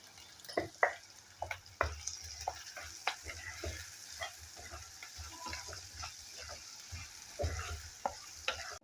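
Onions with salt frying in a pan, a continuous soft sizzle broken by frequent stirring clicks and scrapes of a spoon, close and fairly quiet, with no talking.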